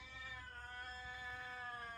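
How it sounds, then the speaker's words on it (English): A cat gives one long, steady, wailing meow that holds at the same pitch for about two seconds, faint and alone over a low background rumble. "I'm not doing the meowing today."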